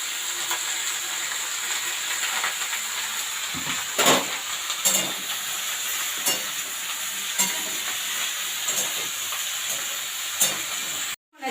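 Pui greens and beetroot frying in a covered pan: a steady, bright sizzling hiss throughout, with occasional clinks and stirring scrapes, then an abrupt stop at the end.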